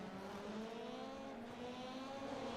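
Rallycross cars race through a first corner at an event in Iowa, several engines droning and revving together at a distance, their pitch rising slightly as they push on.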